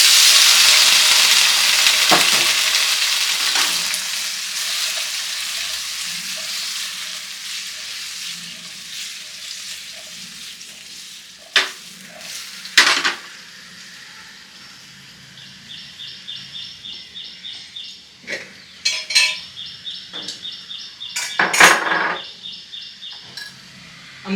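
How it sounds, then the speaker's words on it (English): Cherry tomatoes hit a heated pan and sizzle loudly at first. The frying settles to a softer hiss while stirring adds clattering scrapes and a faint bird chirps in the background. "This pan is now heated up. I am going to add our cherry tomatoes first, not the garlics, because garlic can burn."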